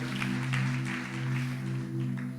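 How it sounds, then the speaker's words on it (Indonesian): Congregation at a youth church service applauding, a soft, continuous wash of many hands clapping beneath steady sustained keyboard tones, quiet and somewhat distant. "berikan tepuk tangan buat Tuhan"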